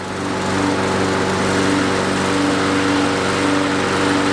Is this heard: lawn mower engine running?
yes